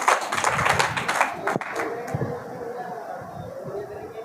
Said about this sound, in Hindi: जोरदार तालियां शारीम के 3 साल।